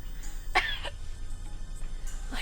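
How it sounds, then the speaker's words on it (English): A single sharp cough bursts out near the start, followed by a softer second catch, with quieter throaty sounds later against a low steady background hum. "I couldn't tell if that was a cough or vomiting"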